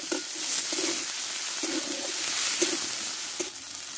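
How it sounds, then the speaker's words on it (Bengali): Spice mix with turmeric and tomato frying in a pan, a soft steady sizzle with occasional stirring scrapes, moderate and continuous, with no one talking. "মশলাটা একদম ফ্রাই করে কষে নেব।"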